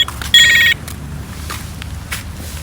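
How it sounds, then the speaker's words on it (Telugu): A mobile phone rings in a short electronic burst near the start at a science centre, then fades into quiet background sounds and faint movement. "ఫోన్ వస్తుంది"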